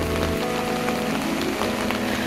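Rain falls steadily on surfaces nearby, an even pattering hiss with scattered droplet hits and no talking.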